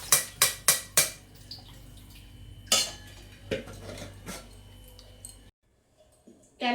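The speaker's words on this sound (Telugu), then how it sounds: "ఇప్పుడు దీన్ని వడగట్టుకోవాలి." Boiled cauliflower being strained: several quick metallic clanks of a pot and utensils, then softer knocks and a brief trickle of water before a near-silent pause and one last clatter.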